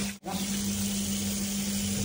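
Tap water runs steadily while water is being changed in a home kitchen in Kuwait, a continuous hissing splash after a brief pause near the start, with no talking.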